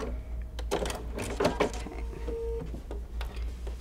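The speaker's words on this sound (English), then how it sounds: "We're gonna pivot and sew right off that corner." A sewing machine stitches a corner of cuddle and minky binding, with a short burst of stitching, a pause and a pivot, then brief clicks and a thin tone over a low motor hum, close up.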